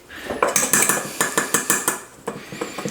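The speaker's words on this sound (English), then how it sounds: "I'm going to sift this out. I always want to sift out your baking powder." A metal sifter shakes baking powder into a bowl for empanada dough, making a quick run of rhythmic rattling taps, close and bright, with a short pause before the shaking resumes.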